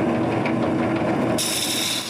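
Steady, continuous rasping and scraping of a tool removing wood inside a turned wooden mortar, close and loud for the whole span, its texture brightening partway through.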